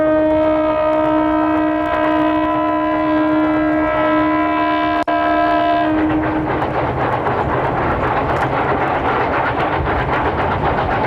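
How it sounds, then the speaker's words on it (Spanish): A Chinese steam locomotive sounds a steady multi-tone air horn or whistle for about six seconds, loud and sustained with a short click partway, before cutting off to leave broad steam hiss and rumbling rail noise. "La mayoría de las máquinas chinas tienen bocinas de aire y silbatos de vapor."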